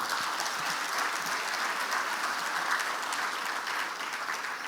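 Steady, dense audience clapping fills the hall at a social initiatives launch, holding at an even, full level throughout with no voices over it.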